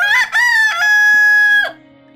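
A rooster crows one long, loud cock-a-doodle-doo up close, rising in stutters and then holding a sustained high note before breaking off into quiet.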